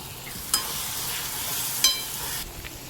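Paneer pieces frying in hot oil for a paneer masala dish, a steady bright sizzle with two sharp stirring clatters and no voices.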